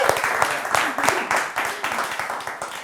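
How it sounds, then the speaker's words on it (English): Live audience applause at a talk show session, brisk rhythmic clapping from a small crowd heard close, with some voices mixed in. "Give an applause to yourself."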